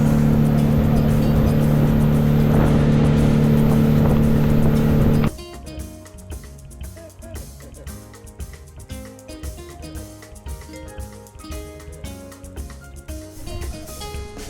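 A motorboat engine drones steadily and loudly with a low hum for several seconds on an Amazon river trip near Manaus, Brazil, then gives way to quieter, busier background sounds.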